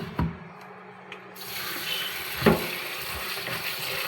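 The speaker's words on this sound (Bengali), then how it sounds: "এখন আমি পরিষ্কার জল দিয়ে ধুয়ে নেব" Dhenki shak, a leafy fern green, is rinsed in clean water at a sink. A tap starts running partway through and continues as a steady close splash, with handling bumps and rubbing.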